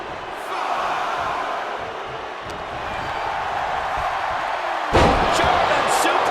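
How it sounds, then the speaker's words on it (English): A heavy body slam from a German suplex in the WWE 2K25 wrestling game, Yokozuna versus Hulk Hogan, lands as one loud thud over a constant roaring arena crowd. "German suplex"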